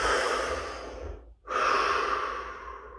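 Deep, expansive breathing during a guided stillness exercise: a long airy inhale, a brief pause, then a long slow exhale, close and fairly soft.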